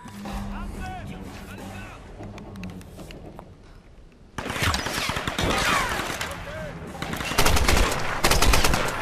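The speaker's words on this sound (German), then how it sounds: "Die schießen aber ganz schön schnell einen tot." Enemy gunfire in the Tomb Raider video game, rapid automatic bursts that turn louder and denser in the second half, mixed with game sound effects and a faint voice.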